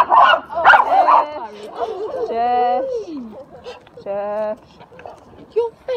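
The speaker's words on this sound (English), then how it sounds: "You're very loud. Yes, very loud, but then my dogs are." Several dogs bark, yip and whimper close by in a loud, uneven burst of high whines and sharp barks, with short pauses and a person talking among them.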